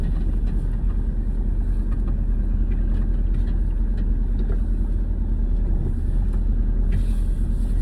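A car on a road gives a steady, moderately loud engine and road rumble heard from inside or close by, with no clear rise or fade and no talk.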